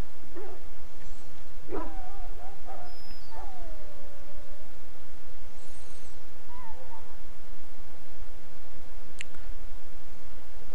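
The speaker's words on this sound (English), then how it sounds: "Put the muzzle on the dog." A dog in the fantasy video game Dragon Age: Origins barks and whimpers in scattered short whines and yelps over a steady background hum of game ambience.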